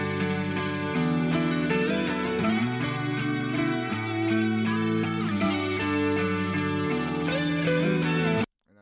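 A music loop sample sent over for building a beat, a steady, distorted melodic phrase with layered harmonics that repeats for several seconds at moderate level before cutting off abruptly.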